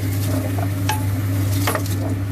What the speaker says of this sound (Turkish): Soğanımızı kavuruyor. Evet. Soğanı karıştırıyorum